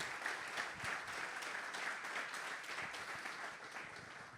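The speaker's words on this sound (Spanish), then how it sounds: "Vamos, aplauda con fuerza al Señor." A church congregation applauds loudly and continuously, dense clapping filling the room with a faint murmur beneath, no clear speech.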